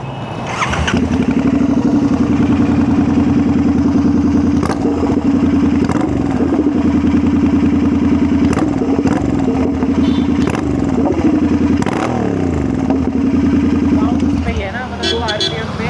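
A 2024 Kawasaki Z900 motorcycle engine runs loud and close for most of the ride, with a steady drone, some revving and clattering, and chatter over it.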